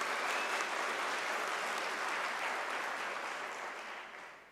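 Applause fills a hall at a World Day for Safety and Health at Work ceremony, a dense, continuous patter of many hands heard from a distance that holds steady and then gradually fades toward the end.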